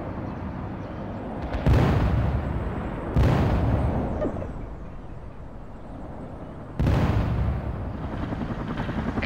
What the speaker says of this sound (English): That chopper is eating dirt now.